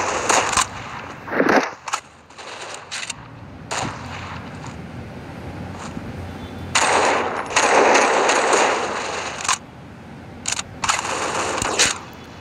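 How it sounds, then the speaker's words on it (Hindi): Gunfire in the mobile shooter game Critical Ops comes as loud rapid automatic bursts and single shots, with stretches of continuous firing between short pauses and no talking over it. "यहाँ से आवाज़ आई है फायरिंग की"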